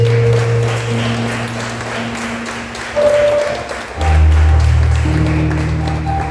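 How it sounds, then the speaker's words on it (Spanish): A church congregation applauds, soft clapping running under sustained organ or keyboard chords that swell louder toward the end. "Den un aplauso al Señor."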